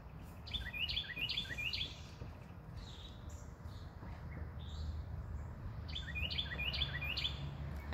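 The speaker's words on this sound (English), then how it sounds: "The sweet sounds of the birds." Birds chirp and trill in quick bursts, pausing and returning, over a steady low rumble of background noise, with no voices.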